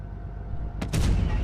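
A deep, heavy tank cannon blast in a video game booms out partway through, followed by a rumbling roar that lingers, with a low hum underneath beforehand.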